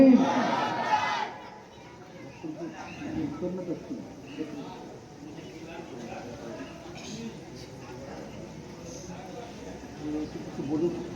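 A crowd at a madrasa gathering answers a takbir call with a loud collective shout at the start, then settles into murmuring and scattered voices under a speaking voice.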